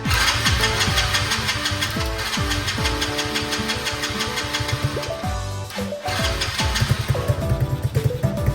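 A Chinese four-wheeler ATV engine runs steadily nearby with a loud, rough, uneven idle and knocking undertone, alone with no talk.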